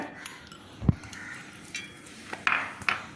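A mixer jar is handled on a kitchen counter while carrot lemon juice is made, giving a few light clinks and knocks spread across the moment, with one duller thump near the start, at low level with no talk.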